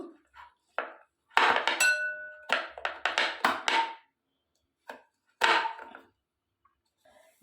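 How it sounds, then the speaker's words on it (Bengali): A guava being cut into small pieces with a knife for a sweet-and-sour chaat, heard as close, sharp taps and clinks in irregular bursts separated by brief silences, with a faint metallic ring on some strokes. "দেখুন আমি পেয়ারাটাকে এইভাবে ছোট ছোট করে পিস পিস করে নেব"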